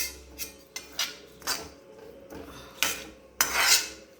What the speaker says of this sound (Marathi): त्यामध्ये दही घालून मिक्स करून घ्यावे.